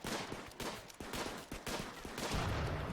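Colonists in Rimworld open fire in a rapid, irregular volley of small gunshots that crackle close together over a few seconds.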